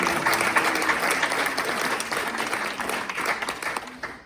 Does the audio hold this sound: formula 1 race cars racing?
no